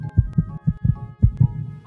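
A steady human heartbeat thumps in close, muffled lub-dub pairs, three double beats in quick succession with no other sound around them.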